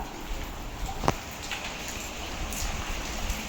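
Rain falling steadily during days of wet weather around a village room with damp brick walls, a continuous even hiss with a faint brief tap near the start and no voices.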